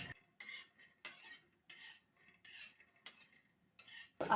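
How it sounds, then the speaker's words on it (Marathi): Peanuts dry-roasted in a pan and stirred in short bursts, each one a dry rattling scrape of nuts against metal with brief pauses between, close and fairly quiet, no talk. "मी शेंगदाणे जरासं आता छान अशी भाजून घेते"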